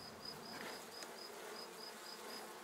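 Honeybees at a beekeeper's hive make a steady, dense buzzing hum, close and continuous, with a faint regular high-pitched pulsing running through it.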